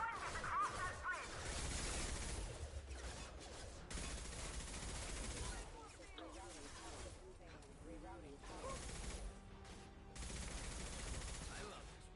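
Rifle fire in Mass Effect 2 combat: repeated sharp bursts of automatic gunfire with crashes and whooshes, loud and close, broken by short lulls, with voices talking between shots.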